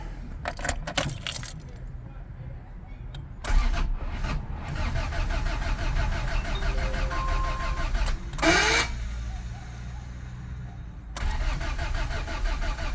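A Honda Civic EF engine cranks in several bursts but fails to start, with key jangles and faint clicks between the tries.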